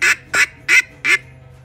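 Four evenly spaced, loud nasal quacks blown on a duck hunting call, each short and clipped, imitating a duck, with a faint steady hum behind them.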